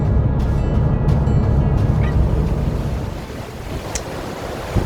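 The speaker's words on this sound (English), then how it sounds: "I'm on board a ship at the moment." Wind and sea aboard a ship make a loud, rushing roar of gusts buffeting the microphone over breaking waves, easing slightly toward the end.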